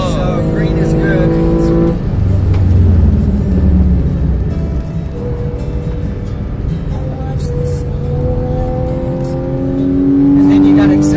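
A race car accelerating on a track at Apex Motor Club, heard from inside during a ride-along: loud engine drone with rising and shifting pitch, steady and close, with talk over it.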